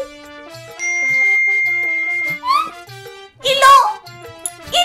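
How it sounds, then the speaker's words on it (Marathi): A phone gives a short, bright chiming ding for an incoming bank debit message. A sustained tone pattern plays alongside it, and people talk around it. "कुबेराचो मेसेज इलो"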